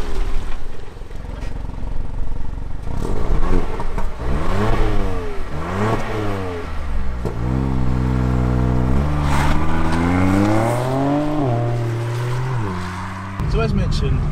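A Ford Puma ST with the 1 litre mild hybrid EcoBoost engine revs repeatedly, its pitch sweeping up and down in rising and falling waves before holding a steady climbing drone, loud and close throughout.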